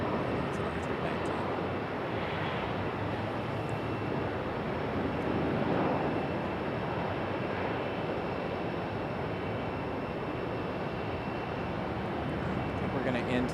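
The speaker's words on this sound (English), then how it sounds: "Good sounding departure for our A319." An Airbus A319 airliner departing Raleigh-Durham International, a broad, steady jet roar at moderate distance holding throughout, with faint background voices.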